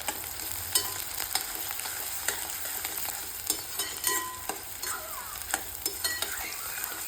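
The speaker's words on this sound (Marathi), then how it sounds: "आता कांदा टाकल्यानंतर याला आपण छान असा 2 ते 3 मिनिट परतून घेणार आहोत" Chopped onions sautéing in a pan for a traditional Khandeshi moong dal dish, a steady close sizzle broken by repeated scraping stirs and light clinks of the spatula, with no voices.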